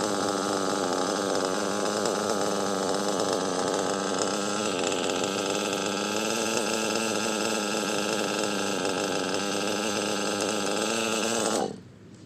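A Novarosi Elite 5 nitro engine on its first run, idling low with a steady, loud buzzing drone that holds without a break, then cuts off abruptly near the end.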